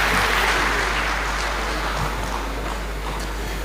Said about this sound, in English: big round of applause to all the panelists